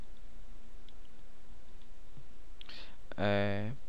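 A computer mouse gives a few faint clicks while someone works in Flash, followed by a voice speaking close up.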